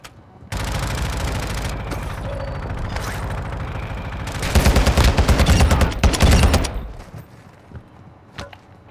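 Heavy gunfire and rapid machine-gun bursts in a Call of Duty: Modern Warfare III firefight against a juggernaut, loud and continuous for several seconds, swelling to a denser peak before giving way to scattered single shots.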